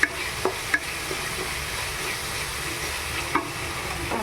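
Spice paste with garam masala stirred and fried in a pan for cauliflower and potato curry, a steady close sizzle broken by a few sharp spoon scrapes and taps, with no voices.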